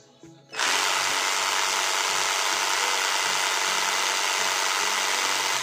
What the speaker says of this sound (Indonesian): Selanjutnya kita akan uji SPM no load speed untuk baterai sudah terisi penuh ya.